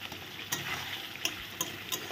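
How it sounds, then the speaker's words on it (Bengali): Spiced papaya kofta curry stirred in a pan, a soft continuous sizzle under a few distinct scrapes of a spoon roughly every second or so, close and fairly quiet, with no talking. "এখন সব কিছু দিয়ে আবার ভালো করে নেড়ে চেড়ে দেবো"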